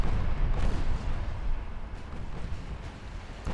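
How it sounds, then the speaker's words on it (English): A torpedo strikes a battleship in the naval warfare game Ultimate Admirals: Dreadnoughts, producing a heavy, continuous low-rumbling explosion with deep booming waves that roll on for a few seconds, loud and with no talking. "Oh, they torpedoed another one of their battleships."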